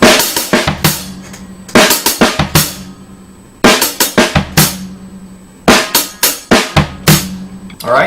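Drum kit beat built from snare, hi-hat and bass drum, played in two spaced phrases with short pauses between, crisp and close with a steady rhythmic pattern and no talking.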